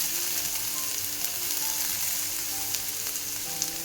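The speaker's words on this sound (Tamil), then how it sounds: "பச்சை வாசம் போகிறதுக்கு தான் நம்ம வதக்குறோம்" Grated yellow pumpkin and tomato sautéing in a hot pan, a steady close sizzle and crackle with small pops throughout, no talking.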